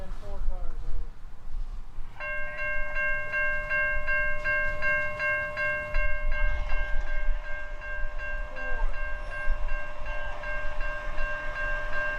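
A 2.5-mile-long Norfolk Southern freight train being shoved back rumbles low and steady while a sustained multi-tone horn blares for several seconds, close and loud, then fades into the continuing rumble.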